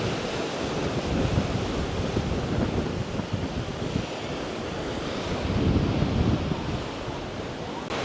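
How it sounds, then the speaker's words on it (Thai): Strong wind blows by the sea at a coastal lookout in Khao Laem Ya National Park, Rayong, Thailand, a continuous loud roar buffeting the microphone, with surf mixed in. "เพราะว่าลมแรง"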